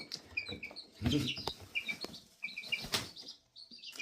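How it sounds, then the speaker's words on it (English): A mother hen clucks softly to her chicks in short, uneven bursts, mixed with faint chick peeps and a little wing rustle, fairly close. "she's communicating and clucking to them"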